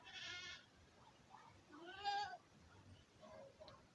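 Ram goats bleating outdoors in a goat yard, three or four wavering calls at moderate distance, one louder bleat standing out midway, with quiet background noise between.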